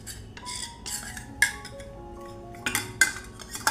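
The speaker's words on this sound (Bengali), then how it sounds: "একটু জল দিয়ে আমি মশলাটাকে গুলে রেখে দেব" A spoon clinks and scrapes against a bowl while ground spices are mixed with a little water into a paste: scattered, close metallic taps and rattles in short bursts, with no talking.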